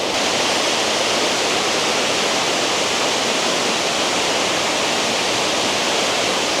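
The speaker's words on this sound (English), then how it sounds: "But I do love a waterfall." A Scottish waterfall roars as a loud, unbroken broadband rush of falling water, heard close up and steady throughout with no voices.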